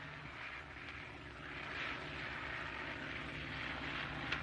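Airplane engine droning in flight in a 1937 film, a steady mid-level propeller hum that swells slightly partway through and carries on evenly.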